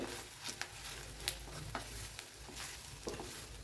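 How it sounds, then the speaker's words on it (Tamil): Soft, steady sizzling of spices frying in oil on low heat, with occasional light clicks and stirring taps, close by and fairly quiet. "இதை நல்லா சிம்மில் வச்சு இந்த ஆயிலில் பரட்டிக்கலாம்."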